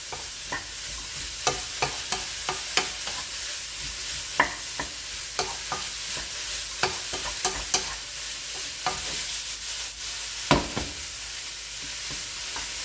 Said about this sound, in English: Give it a nice stir.